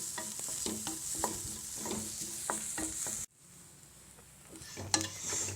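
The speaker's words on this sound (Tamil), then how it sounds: "சின்ன வெங்காயம் சின்னதாக கொஞ்சம் பட்டை இதையும் நல்லா வறுத்துக்கலாம் நல்லா பொன்னரமாக வறுத்துக்கலாம்" Small shallots and cinnamon bark fry in a pan while a spoon scrapes and stirs them in quick repeated strokes over a soft sizzle; the stirring pauses briefly partway, then resumes with a sharp clink.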